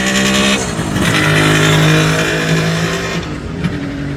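A 1969 Kawasaki Mach III 500 two-stroke triple motorcycle engine revs loudly and close, its pitch rising and falling with harmonic ringing, then dropping off briefly before another burst.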